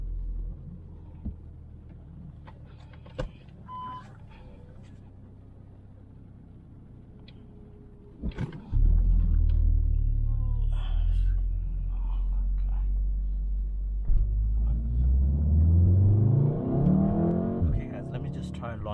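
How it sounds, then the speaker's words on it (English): A VW Golf R idles with faint exhaust pops and burbles, then the engine rumbles loudly and revs up, its deep drone climbing steadily over the final seconds. "Some burbles. I guess the exhaust is warm enough now."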